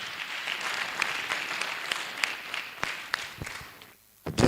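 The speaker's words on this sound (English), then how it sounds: "Please, again, one more round of applause." A conference audience applauds in a dense, sustained burst of clapping from many hands, which fades out before a short loud thump at the end.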